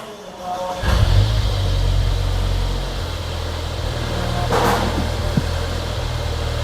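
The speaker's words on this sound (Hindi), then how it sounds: "ठीक है, अब करते हैं गाड़ी स्टार्ट।" A Mercedes GLA with a misfire fault, freshly cleared of fault codes, cranks and starts, then settles into a steady close idle with a brief rise in revs partway through.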